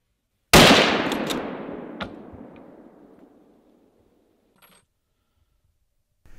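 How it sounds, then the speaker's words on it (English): A single loud 8x57 rifle shot with 185-grain softpoint fired at a mouflon ram in Transylvanian woodland, a sharp crack rolling into a long echo that fades over several seconds, with no talk. "sees Paul take the decisive shot as a ram passes through a gap between the trees."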